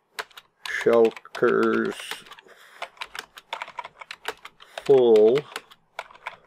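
Keyboard typing in a Minecraft session clicks in quick irregular bursts throughout, under several short stretches of someone talking.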